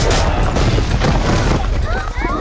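A loud, booming gunshot-like blast from a film soundtrack fills the clip, dense and close, with rumbling debris noise and a voice talking over it.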